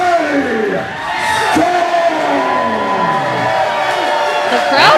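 A crowd at a Warriors of Wrestling event cheers and chants for a Staten Island, New York tag-team wrestler, loud sustained voices rising and falling in unison with whoops, close and filling the clip.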